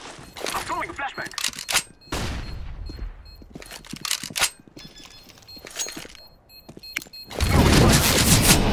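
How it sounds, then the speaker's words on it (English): Flashbang and gunfire in Counter-Strike: Global Offensive, with sharp bursts of shots and blasts recurring through the stretch and a dense loud burst near the end, mixed with game footsteps. "I'm throwing a flashbang."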